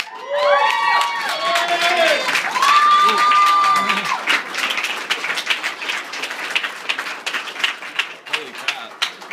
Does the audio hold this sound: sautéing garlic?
no